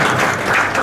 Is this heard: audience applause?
yes